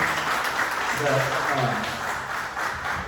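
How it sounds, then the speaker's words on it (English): A forum audience applauds the moderator at a district court candidate event, a steady wash of clapping at moderate level with voices murmuring and talking underneath. "Everybody give a round of applause"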